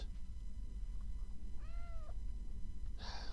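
A house cat gives one rising-then-falling meow, near and clear, followed shortly by the start of a second cry, over a steady low room rumble with no talking.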